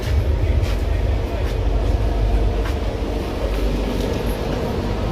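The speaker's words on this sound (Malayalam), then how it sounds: "അപ്പോൾ മംഗലാപുരം എത്തിയ ട്രെയിന് സ്റ്റേഷൻ ഇതാണ്." Train pulling into Mangalore railway station, a loud, steady low rumble of rolling wheels and carriages with faint clatter throughout.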